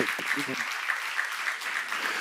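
A church congregation at a Bible lecture on Revelation breaks into sustained applause, a brief voice sounding at the very start before the clapping carries on steadily and evenly.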